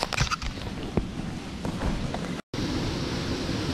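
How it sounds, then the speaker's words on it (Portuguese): A small river rushes in a steady, close, broadband wash beneath a forest trail, with a few crunching footsteps at the start and a brief cut in the sound. "barulho da água tá ficando mais forte."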